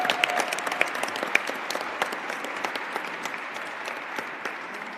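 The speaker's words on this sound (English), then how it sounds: "Can we give Riverside a round of applause?" Steady applause from a church audience for the Riverside team at an MLK event, soft and somewhat distant, with individual claps standing out over the continuous patter.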